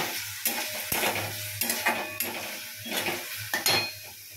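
Ridge gourd and potato curry being stirred in a pan over a raised gas flame, with a spoon scraping and clinking against the metal in irregular strokes over a soft sizzle, close and moderately loud.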